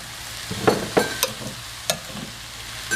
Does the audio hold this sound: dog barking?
no